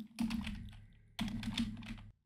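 Two quick bursts of close computer keyboard typing, rapid clicky keystrokes separated by a brief pause.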